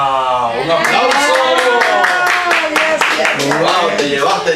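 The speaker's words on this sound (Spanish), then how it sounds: "¡Un aplauso!" Hand clapping from an audience at a religious gathering, dense and continuous throughout with scattered voices and cheers mixed in, loud and close.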